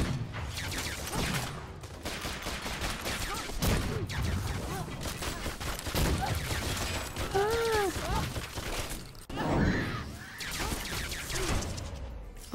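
Rapid gunfire crackles through Full Metal Furies, a co-op action video game, in dense, continuous bursts mixed with other game effects and music, with voices talking over it throughout.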